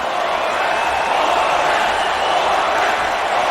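A capacity arena crowd roars continuously in the UFC Undisputed 3 video game before a Forrest Griffin fight, a dense, loud, steady wash of cheering with no distinct voices.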